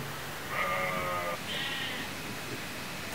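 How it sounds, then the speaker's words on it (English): Sheep bleating, two drawn-out wavering calls one after the other, moderately loud against a steady background hiss. "I think one of my sheep is calling its little sheep friends"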